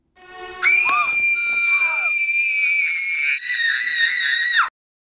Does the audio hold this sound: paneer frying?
no